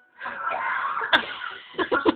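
A few harsh, raspy coughs close by, a sustained throaty bout followed by three short bursts at the end.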